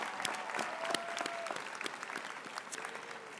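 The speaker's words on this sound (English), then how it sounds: "let's give our student speakers another round of applause for sharing their journeys" A commencement audience applauds student speakers, a dense, lively patter of many hands clapping at moderate loudness that slowly tapers toward the end.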